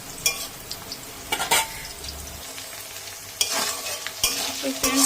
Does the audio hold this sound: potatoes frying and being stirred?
yes